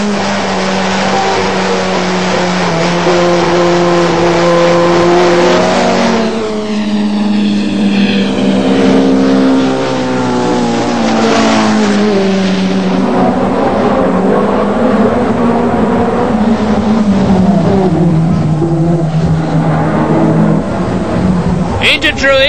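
Ford Sierra RS500 touring car engines roar loudly at a British Touring Car Championship race, rising and falling in pitch as cars pass close by into Druids at about 55 mph, over steady commentary-like talk.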